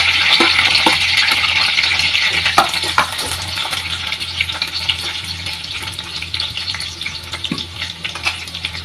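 Curry leaves fry in hot oil for sabudana khichdi, giving a loud, steady crackling sizzle close up with a few sharp pops and faint stirring clinks, and no talking.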